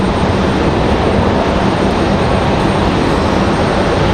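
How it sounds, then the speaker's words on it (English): An Endeavor CRJ regional jet departs Raleigh-Durham International, its engines making a loud, steady broadband roar that holds at near-constant level throughout. "Another CRJ. Our last departure, that CRJ Endeavor 5310, heading to Washington, D.C. via Reagan."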